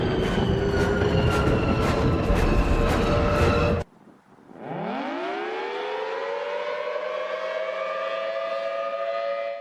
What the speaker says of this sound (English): Special shout out to the Enterprise's engine sound. It has the eerie tone of some old civil defense sirens.